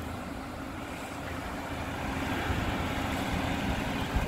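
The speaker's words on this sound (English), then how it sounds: "Sounds absolutely beautiful on tick over as well." A 2009 Ford Fiesta 1.4 Titanium idles steadily at close range, a low continuous engine rumble that holds even and grows slightly louder partway through, with no talking over it.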